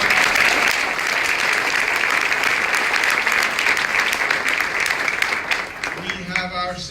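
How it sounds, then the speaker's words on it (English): Audience at a civic award event applauding Common Council President Don Kutcher Jr., a loud, sustained burst of many hands clapping that thins out in the final second. "Let's give him a round of applause."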